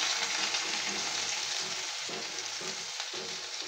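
Whole cumin seeds and chopped onion crackle in leftover hot oil with a continuous, even sizzle close to the pan and no voices.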